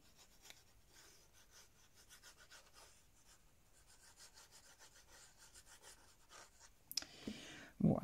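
Folding a paper pencil case, a soft continuous rubbing and scraping of paper being creased and smoothed, close and quiet, ending with a couple of louder crinkles.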